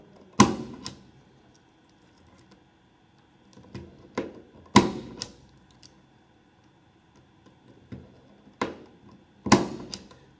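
An inexpensive consumer-grade termination tool punches network cable wires into a wall jack, giving sharp, separate snapping clicks spaced a second or two apart, with quieter fumbling taps between them.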